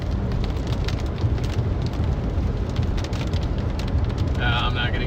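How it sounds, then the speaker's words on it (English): Heavy rain pounding a car during a tornado chase in Nebraska, a dense continuous roar of drops on the roof and glass with road rumble underneath, loud and steady throughout. "I'm not gonna get out of this heavy rain."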